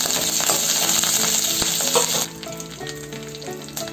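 Curry leaves and dried chillies hit hot oil tempered with mustard seeds, a loud bright crackling sizzle that drops to a quieter bubbling fry halfway through, close up with no talk.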